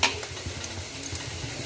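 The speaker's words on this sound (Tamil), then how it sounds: "எண்ணெய் ஊற்றி கடுகு, கடலைப்பருப்பு, சின்ன வெங்காயம், கொஞ்சம் பெரிய வெங்காயம், பச்சை மிளகா 4 எல்லாம் போட்டு வதக்கிட்டுருக்கேன்" Mustard seeds, chana dal, shallots, onion and green chillies fry in hot oil, giving a steady close sizzle with light crackles and occasional stirring scrapes, no voices.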